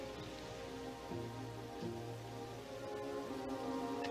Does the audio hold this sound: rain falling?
yes